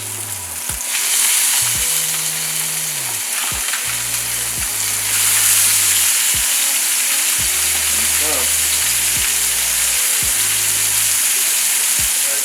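Pork chops searing in a hot pan, with a loud, continuous, close-up sizzle and crackle and no talking, while low tonal music plays underneath.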